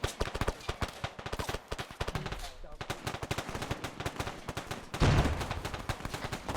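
Rapid automatic gunfire from the military shooter game Arma 3 during a multiplayer town defense, with dense overlapping bursts and cracks, near and far, continuing steadily; players' voices come through briefly.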